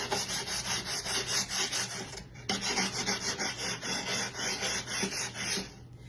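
Steady rhythmic rasping of sandpaper rubbed back and forth by hand around the edge of a wooden tiered tray, close and continuous, with one brief pause midway.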